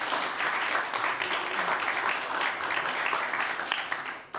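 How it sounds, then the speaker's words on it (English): An audience applauds at a talk event with the Dutch ambassador in Benin: a dense, steady wash of many hands clapping, moderately close, continuing for several seconds before tapering off at the very end. "That could be an applause for that."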